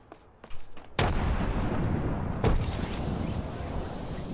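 A frag grenade goes off in Apex Legends: a few sharp pops come first, then a loud full-range blast whose rumble continues, and a second burst follows partway through.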